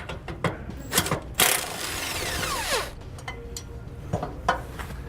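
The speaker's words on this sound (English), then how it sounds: "You'll again remove these with a 13mm socket." Removing bolts with a ratchet and 13mm socket while fitting RV steering stabilizer brackets gives scattered close metallic clicks and clatter, with a brief rattling ratchet burst in the middle and no speech.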